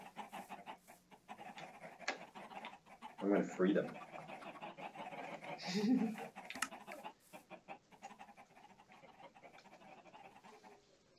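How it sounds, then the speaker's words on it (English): Scattered hen clucks and squawks burst out in two flurries amid clicky Minecraft game sounds, with a person speaking briefly over them. "Oh, look at all these chickens."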